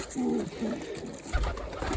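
Low, soft cooing of pigeons close by, over a steady rustling background.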